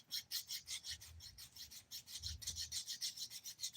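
Acrylic nail being filed with the 180 grit side of a nail file, quick rhythmic rasping strokes repeating steadily and close up, with no talking.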